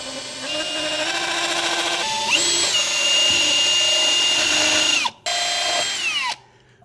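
A power drill whines loudly and steadily while boring into a concrete block, pitch rising partway through, then cuts out briefly and restarts before stopping.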